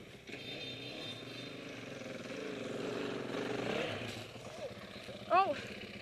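A dirt bike engine drones steadily at a moderate distance, with a brief sharper rev near the end and a voice faintly audible underneath.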